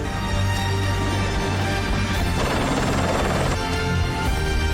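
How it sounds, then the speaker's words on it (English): A Life Flight medical helicopter flies close and loud, its rotor and engine roaring steadily and unbroken throughout. "A life flight helicopter rushed Justin to the Intermountain Medical Center in Salt Lake City"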